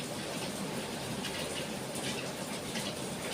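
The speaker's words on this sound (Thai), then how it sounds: "ที่อื่นฝนตกไหมนะ ที่บ้านย่ายังหนักเลยค่ะ" Heavy rain pours down steadily at a grandmother's house, a dense, even hiss of falling water that holds at the same loudness throughout with no break.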